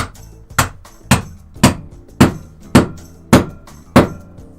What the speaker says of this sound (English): I take this little 4-pound weight here and I smack it like a hammer, bonk bonk